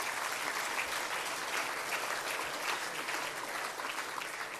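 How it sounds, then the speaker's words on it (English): Audience applause at an awards ceremony, a continuous, even rattle of many hands clapping in a large hall, held at a fairly distant, moderate level throughout. "Give them a round of applause."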